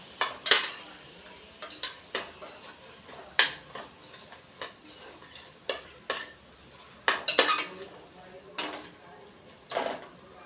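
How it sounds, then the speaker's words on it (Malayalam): Tomatoes with ginger and garlic sautéed in a pan for Kerala-style mutton curry, a spoon scraping and clattering against the pan in irregular bursts over a soft sizzle, close and moderately loud. "ഇനി പച്ചമണം മാറുന്നത് വരെ നല്ലപോലെ ഇളക്കി കൊടുക്കാം. തക്കാളി ഇതിൻ്റെ കൂടെ ചേർന്ന് നല്ല സോഫ്റ്റായി വരുന്നത് വരെ ഇട്ട് മൂപ്പിക്കണം."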